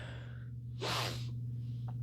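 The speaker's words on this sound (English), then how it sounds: "Man, that sneeze." A single sharp sneeze bursts out close up, preceded by a quick intake of breath, then quiet.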